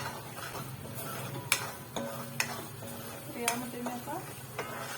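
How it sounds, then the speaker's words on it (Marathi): Masala roasting in a pan for chicken 65, with a spoon clinking and scraping at irregular intervals over a low sizzle and some faint background voices. "मसाला पहिला चांगला भाजून घ्यायचा."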